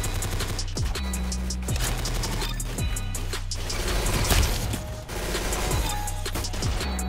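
Rapid gunfire in the Roblox Arsenal shooter, a steady stream of sharp shots with periodic descending sweeps under game music, loud and continuous with no talking.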